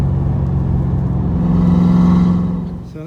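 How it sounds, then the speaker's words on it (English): A 1994 Ford Mustang GT 5.0 with Flowmaster 10 exhaust doing a burnout, its engine holding a loud, steady low rumble that swells and then eases near the end, with no talking. "burning rubber in the Mustang"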